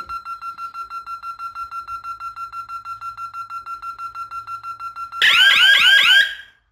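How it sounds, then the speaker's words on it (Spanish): A Honeywell/Resideo Vista 48LA residential security alarm gives a steady run of short, rapid beeps, then breaks into a loud, warbling siren for about a second before cutting off. "Ahorita que se active va a sonar un poquito la alarma."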